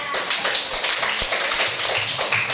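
A class of students claps hands together, a dense, rapid patter of many claps close by, sustained evenly for a couple of seconds without talk.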